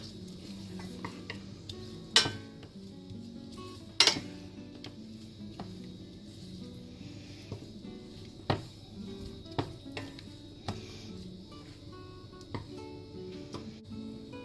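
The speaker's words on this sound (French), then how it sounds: "on mélange très bien pour que les morceaux d'oignon soient bien enrobés du beurre" A spoon scrapes and clinks against a pot while onion pieces are stirred in butter, scattered sharp metallic taps over a quiet background, with a few louder knocks.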